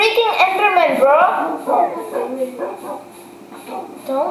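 Dogs in Minecraft bark, yip and whimper in a quick cluster of high, tonal calls, fairly loud and close, overlapping with lively talking voices.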